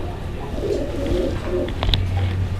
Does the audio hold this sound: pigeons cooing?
yes